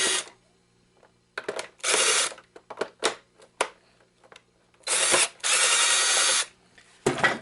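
A power screwdriver whirs in short bursts, backing screws out of an old game console, with several spaced buzzes, small clicks and quiet gaps between them.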